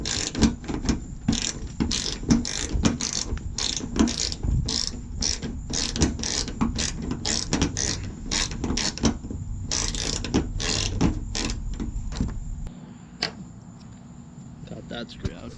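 A ratchet clicks in rapid repeated bursts, close and loud, as the headlight assembly bolt on a Toyota Camry is loosened during accident repair, with brief pauses and some handling noise.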